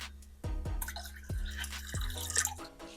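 Liquid yeast being poured into a sweetened liquid for homemade soda makes a series of close, distinct drips and plops, a few irregular drops splashing into the mix with small trickles between them.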